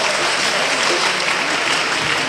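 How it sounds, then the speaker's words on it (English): An audience at a university mass communication town and gown event applauds, a dense, steady wash of clapping hands that fills the whole moment without letup. "Please, that applause is not"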